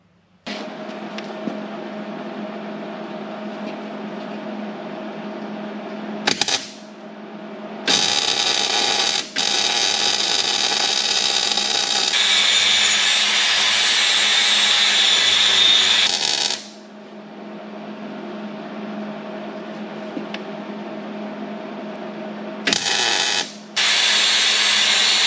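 An angle grinder works down a worn steel drawbar hitch on a 1939 Caterpillar D4, a loud, sustained whine that rises into harsher grinding during contact, with brief stops and restarts.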